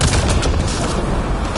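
Sustained, dense gunfire in a video game as a fighter shoots at pirates, with rapid overlapping shots and booms that stay loud and close for the whole stretch, without pause.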